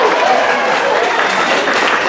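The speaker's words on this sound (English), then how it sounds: "clap your hands if you're over 60" A casino comedy-show crowd claps together on request, producing a loud, dense, even wash of applause mixed with crowd murmur that holds steady throughout.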